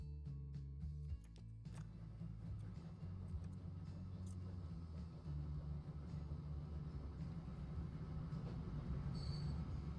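A train rolls along rails in the Transport Fever 2 video game, a steady, low rumble of wheels and carriages that carries on continuously with a brief faint squeal near the end and no voices.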